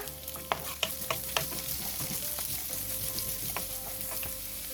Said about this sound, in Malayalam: ഒരു വലിയ സവാള ചെറിയ കഷ്ണങ്ങളാക്കി കട്ട് ചെയ്ത് ഇട്ട് കൊടുക്കുക.